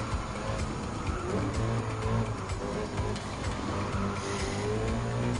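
Supercars race in Gran Turismo 7, a Citroen and a Lamborghini contesting first place, with a steady, loud engine drone that holds level throughout and carries no speech.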